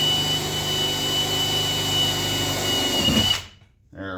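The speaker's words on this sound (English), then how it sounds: "And we'll drill the first hole so we can run a screw in." A power drill bores a screw hole for mounting a master cylinder, running loud and steady for about three seconds before cutting off abruptly, leaving near silence.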